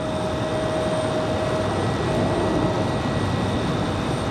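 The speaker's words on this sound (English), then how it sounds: "Nice smooth touchdown for the Max 8." A Boeing 737 Max 8 jet landing at Raleigh Durham airport, a steady loud engine roar with a constant whining tone, heard from a distance without talk.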